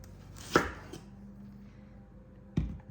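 A knife chopping a dry end off aromatics on a cutting board, two crisp, close chops about two seconds apart with quiet room tone between.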